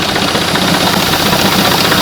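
A Suzuki four-stroke outboard engine runs steadily after starting, a loud, close, continuous mechanical drone with an even idle rumble and no voices.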